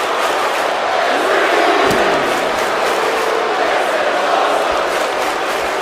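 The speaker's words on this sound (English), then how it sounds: "You hear the crowd chanting, "This is awesome,"" A loud wrestling-event crowd chants in unison, a roaring, steady wall of massed voices filling the arena from start to finish.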